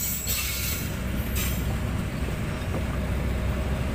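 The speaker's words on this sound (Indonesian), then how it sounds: "Ini kereta yang kita tunggu" A train of railway cars, carrying tourist coaches, rolls steadily past a level crossing at Ambengan in Surabaya in the late afternoon, with a continuous close rumble and faint wheel squeal throughout, no voices.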